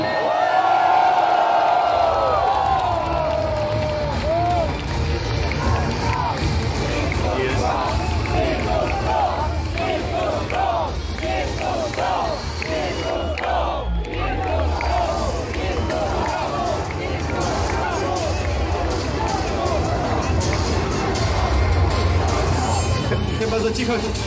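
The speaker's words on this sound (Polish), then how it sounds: "Zróbcie hałas dla zawodników Virtus Pro i Navi!" A large crowd at a G2A CAMP esports fan meetup in Rzeszów cheers, whoops and yells for the Virtus.pro and NaVi players, a loud, continuous roar of voices sustained throughout, with an announcer's voice mixed in.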